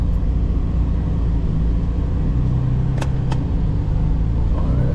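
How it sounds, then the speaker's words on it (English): A car coming out onto the road along the Linden Highway in Guyana, heard as a steady, loud vehicle rumble and road noise throughout, with a couple of brief sharp ticks midway and no talking. "You got a car coming out there"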